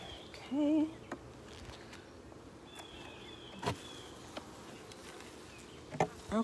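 Honey bees buzz around an opened hive frame, a low steady hum under faint scrapes and knocks of a hive tool, with one louder bee passing close early on.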